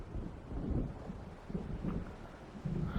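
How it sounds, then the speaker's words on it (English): In the video game Alan Wake, low rumbling thunder of an approaching storm rolls in soft, uneven swells, blended with wind noise and no voices. "It seems there's a storm coming."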